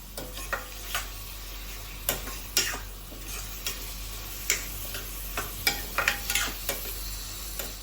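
Fresh river prawns cook in a pan with a continuous soft sizzle, broken by irregular clicks and scrapes of stirring.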